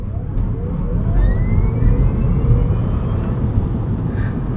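A 2025 Rivian R1S electric SUV accelerates hard from 0 to 60 mph, heard from inside the cabin. A steady loud road and tyre rumble runs under a whining motor tone that rises in pitch as speed builds.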